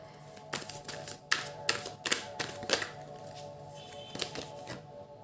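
Tarot cards taken out and handled, a run of quiet taps, flicks and shuffling clicks in uneven bursts, close and soft with no speech.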